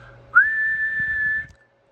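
A person whistles one steady, sustained tone into a microphone as a test signal for a Heathkit SB-200 amplifier, close and clear, holding for just over a second before stopping abruptly.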